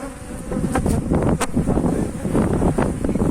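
Honey bees swarm and buzz loudly and continuously close by as a beekeeper transfers a colony between hives, a dense droning hum with shifting pitch and no talk.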